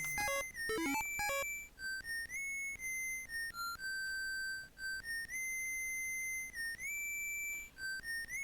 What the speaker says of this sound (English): I was listening to, Proto Man's whistle